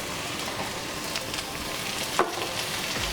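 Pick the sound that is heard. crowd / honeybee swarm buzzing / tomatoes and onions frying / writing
tomatoes and onions frying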